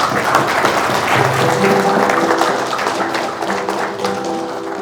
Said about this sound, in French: nous pouvons les acclamer, s'il vous plaît